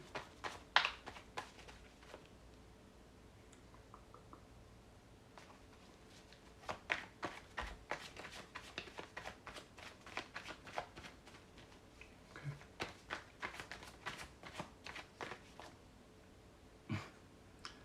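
Bursts of quick crisp clicks and riffles, like playing cards being shuffled over and over, with quiet gaps between rounds.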